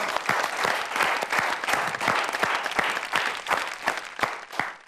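A live audience at a comic poetry show bursts into dense, sustained applause, a loud continuous roar of many hands clapping close by.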